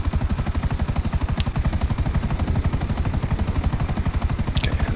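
A helicopter in the video game GTA 5 Online thumps with a rapid, steady rotor chop, loud and continuous throughout with no speech over it.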